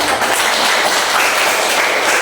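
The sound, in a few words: group clapping hands together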